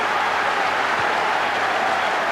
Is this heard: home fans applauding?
yes